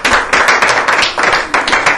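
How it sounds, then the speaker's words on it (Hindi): Loud bursts of audience clapping for a contestant on a Bihar television game show, coming in rhythmic waves over two seconds with no talk. "आप सबके लिए जोरदार तालियां।"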